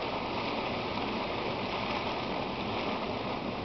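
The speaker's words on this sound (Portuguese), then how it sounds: "talvez vocês conseguem ver a água saltitando" El Tatio geyser water bubbles and splashes in the high Chilean desert, heard as a steady, dense wash of rushing, gurgling water noise with no pauses.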